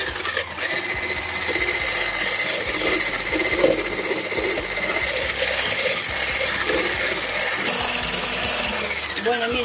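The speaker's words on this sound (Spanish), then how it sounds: "Vamos a ir agregando de a poquito el azúcar y lo vamos a empezar a batir." Ingredients are beaten with sugar, added little by little, for a no-bake red velvet dessert: a continuous mechanical whirring and rattling that runs steadily throughout, close up, with faint talk underneath.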